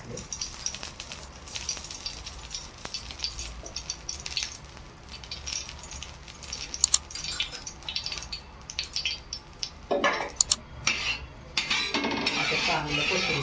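Oil poured into a tava for an egg omelette, with clinking of pans and utensils and a faint sizzle building near the end, close and moderately loud.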